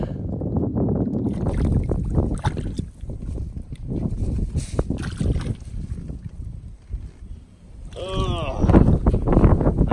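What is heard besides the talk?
wind blowing on the water while fishing from a boat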